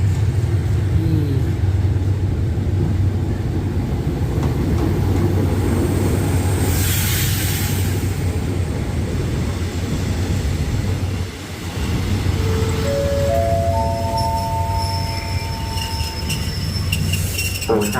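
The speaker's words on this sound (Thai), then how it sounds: "นี่นะฮะรถไฟมาแล้ว" A train arriving at a station in Chachoengsao, Thailand rumbles steadily nearby, wheels grinding and squealing with high metallic tones as it slows, loud and continuous throughout.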